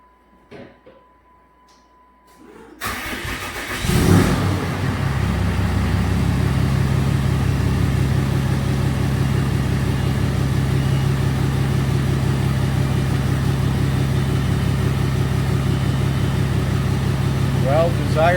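A 2008 Ram 2500HD pickup with a 68RFE transmission cranks over and starts, then settles into a loud, steady, rumbling idle that continues unbroken for the rest of the clip, with a short stretch of quiet before the start.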